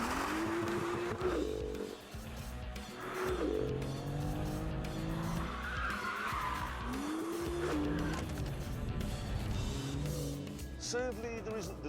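A BMW M2 on a test track roars as its engine revs rise and fall, with tyres squealing through the corners in a loud, continuous run.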